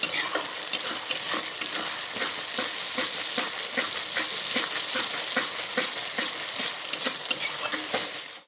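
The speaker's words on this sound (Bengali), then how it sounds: "টমেটো পিউরি দিয়ে আমি আস্তে নাড়তে থাকবো, টমেটো কাঁচা গন্ধটা চলে যাবে।" Tomato puree being stirred into a Chital fish curry in a pan: a continuous close sizzle with a steady rhythm of spatula scrapes and taps throughout, no voices.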